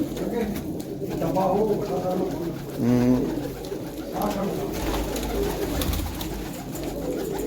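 Pure-bred pigeons in a loft at Hardaspur, Punjab, give low, throaty coos over a busy background, while someone talks nearby.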